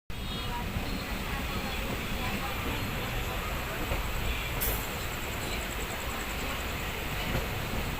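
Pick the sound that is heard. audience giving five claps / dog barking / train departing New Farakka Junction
train departing New Farakka Junction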